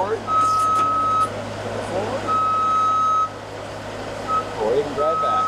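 A JLG scissor lift driving while elevated gives out steady, repeating electronic warning beeps in loud, evenly spaced tones over a low machine hum, with someone talking throughout.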